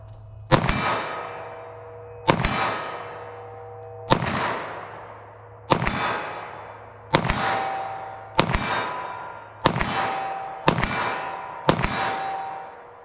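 Eight loud, evenly spaced 9mm compact pistol shots fired at a steel target 25 yards away, each a sharp bang followed by a ringing metallic clang that decays before the next shot.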